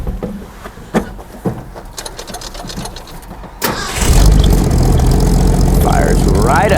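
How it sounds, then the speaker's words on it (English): A 1965 Ford F-100 4x4 pickup with a straight-six engine cold starting: a few clicks and cranking, then the engine catches with a loud burst and settles into a rough, steady idle, close by. "we're about to do a cold start on the old truck that's up for auction"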